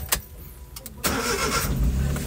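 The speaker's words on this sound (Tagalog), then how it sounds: "Yun ang tamang pagpapa-start ng sasakyan mga boss." Minivan engine started with a single key turn: a few faint clicks, then a quick crank catching into a loud, steady low idle close by, with no voices.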